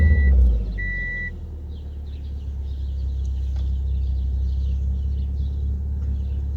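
A Subaru car engine idles steadily after a fuel pump and filter replacement, giving a low, even rumble close by, with a couple of brief beeps at the start.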